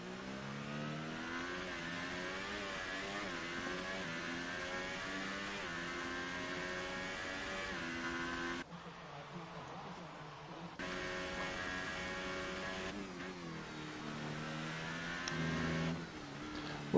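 A Red Bull Formula 1 car engine in the video game F1 2018 screams at high revs at Japan, shifting pitch up and down through gear changes, loud and continuous with a brief dip midway.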